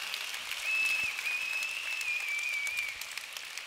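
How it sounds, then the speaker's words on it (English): An audience at a live motivational talk gives a round of applause, a steady wash of many hands clapping at moderate volume that holds throughout and eases slightly toward the end. "Another round of applause."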